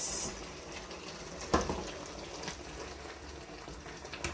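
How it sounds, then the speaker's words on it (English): Smooth blended cocoyam paste is poured into a pot of soup, making a soft, continuous, quiet pouring and slopping sound with a small splash near the middle. "I have blended it. It's very smooth now, so I will go ahead and pour it."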